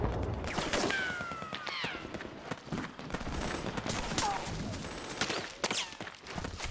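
Dense battlefield gunfire in the video game Metal Gear Solid 4, with rapid automatic bursts and overlapping shots mixed with whistling effects and mechanical noise, continuous and loud throughout.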